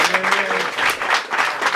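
Spectators at a French rap battle break into loud, dense applause and cheering, a sustained wall of clapping with a voice talking briefly at the start.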